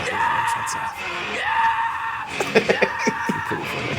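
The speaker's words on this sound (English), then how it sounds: "He's spending so much time screaming" A man screams at length, a strained, held yell with shifting pitch, then a run of short sharp shouts and whoops near the end.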